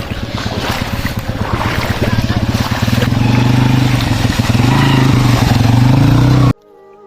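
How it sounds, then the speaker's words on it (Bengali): A motorbike engine drones steadily while it drives through floodwater on a submerged village road, water splashing and churning around it, loud and close, with wind noise over the microphone before it cuts off abruptly. "দেখেন বাইকটা কিভাবে যা পানি ভিতর দিয়ে"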